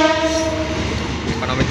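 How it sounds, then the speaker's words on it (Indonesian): Matarmaja passenger train hauled by a CC201 diesel locomotive, its horn sounding loud and sustained with a steady rumble of rail noise underneath. "Matarmaja menggunakan lok CC201-9212 tipe induk CBN"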